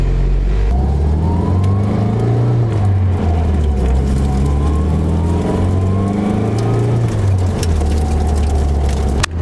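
A Nissan 240 car engine drones and revs up and down repeatedly while driving on a test drive, with gear changes audible and road noise throughout.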